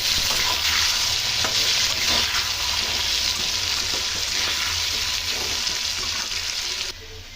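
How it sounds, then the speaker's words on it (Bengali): Salted potatoes frying in oil, a steady loud sizzle with scraping stir strokes throughout, dropping off slightly just before the end, no voices. "এরপর আলুকে আমি ভালো মতো ভেজে নেব।"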